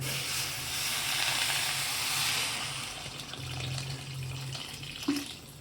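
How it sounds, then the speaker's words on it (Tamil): About two tumblers of water stream steadily into a pot of okra curry with a broad hissing rush, close by, tapering off toward the end with a faint clink. "தண்ணி ஊற்றிக்கலாங்க"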